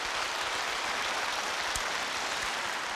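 Steady, dense applause fills a hall at a Seoul Gloria Choir event as a retired psychiatry department head is introduced. The clapping is even and continuous throughout, with no voices standing out.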